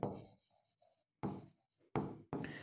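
A pen scratches on paper during a Talathi Bharti exam maths solution, in short separate strokes with quiet gaps between them, close and soft, and no talking over it.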